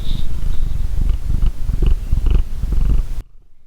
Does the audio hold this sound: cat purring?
yes